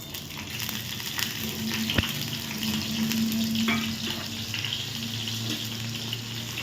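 Chopped onions, two pieces' worth, frying in oil for a butter chicken masala, giving a steady close sizzle with a few clinks and scrapes and no talk.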